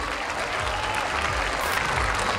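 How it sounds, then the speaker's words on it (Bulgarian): Steady audience applause at a town celebration in Simitli, Bulgaria, greeting local folk dance performers; dense continuous clapping filling the whole stretch at an even level. "Силни аплодисменти за талантите на град Симитли."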